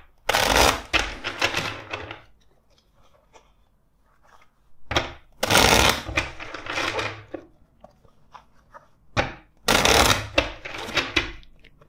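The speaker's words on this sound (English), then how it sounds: "let's shuffle this other deck four times" A tarot card deck being shuffled in four bursts of crisp, riffling card noise, each a couple of seconds long, separated by quiet pauses, close and fairly soft with no talking.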